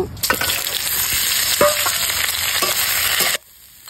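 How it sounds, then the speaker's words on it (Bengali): Boiled young jackfruit fries in hot oil in a pan, a loud close sizzle with scraping stirs and clatter that cuts off abruptly near the end. "এঁচোড়টা ভেজে নেব।"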